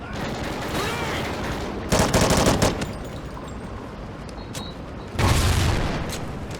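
Sustained battlefield gunfire from the Call of Duty Ghosts video game, with rapid automatic bursts and two heavy grenade explosions that swell loudly over the dense rattling, voices shouting faintly underneath.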